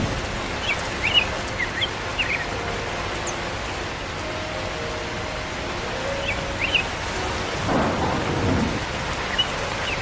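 A thunderstorm with heavy rain, the downpour a constant hiss on surfaces while thunder rumbles and one loud crack breaks through near the end, with no voices.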